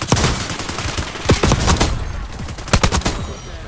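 Rapid bursts of AEK rifle fire in the Black Ops 6 shooter game, the Mastercraft variant, loud and close, cracking in several quick clusters with brief gaps between them.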